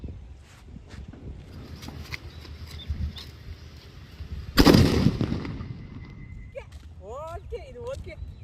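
A single atom bomb firecracker goes off during Diwali: one sharp, loud blast at mid-clip that rings out briefly, set against steady outdoor background noise, with chirpy bird or whistle sounds after.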